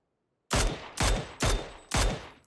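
Four loud, closely spaced gunshots fired in the online shooter game PUBG, each a sharp broadband crack with a short decaying tail, evenly paced about half a second apart after a moment of near silence.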